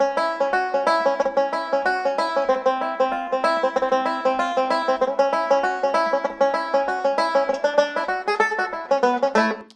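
An Irish tenor banjo plays the reel The Mason's Apron shifted down a semitone, a steady run of bright plucked notes with a lightly tapped pulse underneath, close and continuous with no voices.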